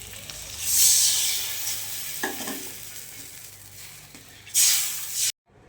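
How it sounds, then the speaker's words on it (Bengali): Snail curry sautéed and stirred in a pan, with drained snails added to the spices: a steady sizzle and frying hiss with scraping stir strokes, loud bursts near the start and end before it cuts off. "এবারে ভালো করে কষিয়ে নেব।"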